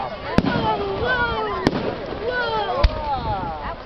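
Summer carnival fireworks burst with three sharp bangs at intervals, followed by whistling, crackling trails, heard from a distance while people talk nearby.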